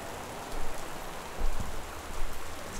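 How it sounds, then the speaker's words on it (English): Rain in the video game Gone Home, a steady dense patter of falling rain with soft swells in intensity and no voices. "The rain is sounding loud in my ears"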